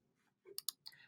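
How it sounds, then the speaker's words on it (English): A computer mouse is clicked a few times in quick succession, giving sharp, close, light clicks that are fairly quiet against near silence. "if I right click on it"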